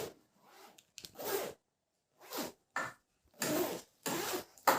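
A zipper on a WROGN 35L unisex laptop backpack runs open and shut in several separate close pulls, each a short raspy burst with brief silences between.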